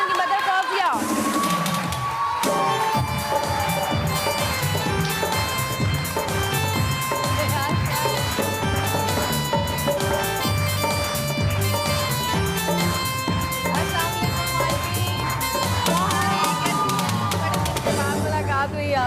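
A studio audience at a television talk show applauds and cheers arriving guests, a sustained, loud wash of clapping mixed with music and voices.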